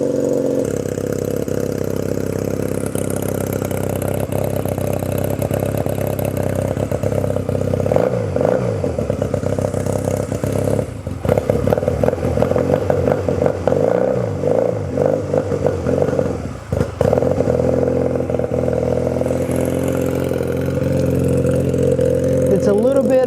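A 1997 Honda Rebel 250 motorcycle engine idles close by, a steady mid-pitched rumble with a slight clatter and a few brief rises in revs, running continuously through the whole stretch.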